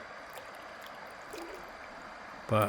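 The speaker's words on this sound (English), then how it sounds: "No idea what's up here, but it sounds like a waterfall." A waterfall or rushing stream sounds from a river float trip as a faint, steady distant hiss of water, ending in a short, sharp close noise.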